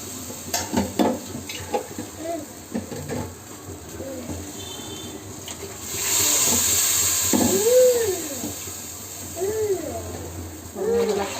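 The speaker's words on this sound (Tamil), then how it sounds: "தண்ணி போட்டு இது கொஞ்சம் கொதிக்கட்டும்." Water poured over roasted vermicelli heats toward a boil in a pan. A soft hiss and sizzle swells in the middle, with faint stirring and intermittent talk around it.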